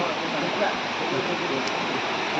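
The waterfall at Gadachandi gives a steady, dense rushing roar of falling water, continuous and fairly close.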